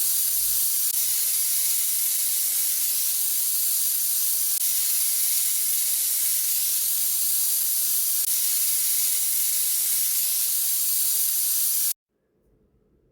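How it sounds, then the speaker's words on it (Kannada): A pressure cooker holding green gram curry vents steam in a loud, steady, close hiss that lasts about twelve seconds, then cuts off sharply to near quiet. "ಇವಾಗ ಲಿಟ್ ಕ್ಲೋಸ್ ಮಾಡಿ ಮೂರರಿಂದ ನಾಲ್ಕು ವಿಷಲ್ ಕೂಗಿಸ್ಕೊಳ್ಳೋಣ"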